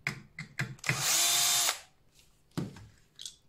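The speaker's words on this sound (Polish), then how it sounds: "Ja lubię używać wkrętarki." A cordless power screwdriver unscrews the mudguard screws on a Xiaomi electric scooter: a few short clicks, then one sustained close whirring burst of just under a second, followed by another brief tool noise and handling clicks.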